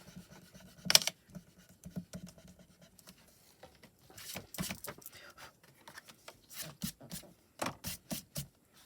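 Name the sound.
rubbing pan pastel off card with a regular eraser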